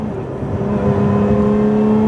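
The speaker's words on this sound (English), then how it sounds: "the sound of that engine just right behind you" A 2024 Lotus Emira sports car engine drones steadily up close from behind the seats with a deep, rising hum, loud and continuous throughout.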